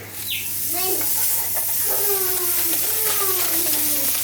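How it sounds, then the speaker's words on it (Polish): Steady frying sizzle and hiss of hamburger patties in a pan fill the clip, with a voice talking over it throughout. "smażymy nasze kotlety"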